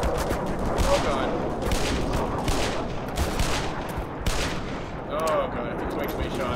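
Rapid gunfire in the Black Mesa video game: repeated bursts of sharp shots crackle steadily across the whole stretch, loud and close, with brief pauses between volleys.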